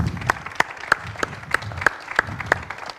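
Sparse, evenly spaced claps from a small audience at a book talk with an author, a thin rhythmic patter of individual hand claps rather than a full ovation.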